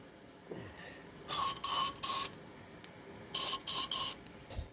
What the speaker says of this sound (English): Spray the, let's see, the roller a bit.